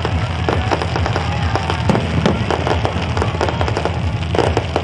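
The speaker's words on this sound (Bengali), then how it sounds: "তারই পাশে আতশবাজি প্রদর্শন" A Dussehra fireworks display in Salt Lake Central Park crackles and pops continuously, with dense overlapping bangs and sputters forming a loud, unbroken outdoor roar.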